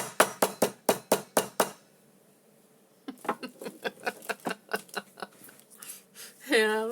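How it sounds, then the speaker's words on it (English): A hammer taps regular-size staples into a handmade paper journal: a quick run of about eight sharp, even knocks, a pause, then a longer series of lighter taps, ending with a brief voice. "I have a hammer."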